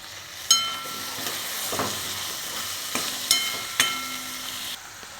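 Chopped tomatoes frying with onions and chillies in oil, a constant close sizzle broken by several sharp spoon scrapes and taps against the pan, no talking.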